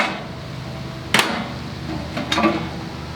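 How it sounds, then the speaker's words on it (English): Metal grates are lifted out of an M16 Competition charcoal grill, giving two sharp metallic clanks about a second apart with a low rumble of handling between them. "I'm going to first remove all my grates."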